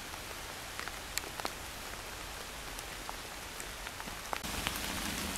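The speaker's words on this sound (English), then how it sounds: "I hope you can hear the pitter-patter of the rain." Rain on a wet June day in a Kent wood, a steady, dense patter of drops on leaves and surfaces with occasional louder individual drips, continuous throughout.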